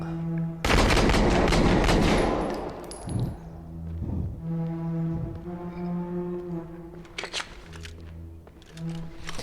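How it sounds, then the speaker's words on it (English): Loud gunfire erupts in a realistic body-camera-style police shooter game trailer: a dense, roaring burst of shots, followed by a lingering tonal drone and scattered sharper cracks. "Shots fired! Shots fired!"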